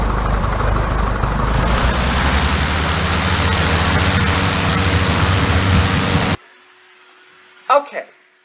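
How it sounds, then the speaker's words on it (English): A simulated Evektor Sportstar light aircraft engine in a flight simulator roars steadily as throttle climbs to maximum power, loud and constant, then cuts off abruptly into near silence before a brief burst of noise. "I'm going to throttle up, and you can hear what the engine sounds like going up to max power"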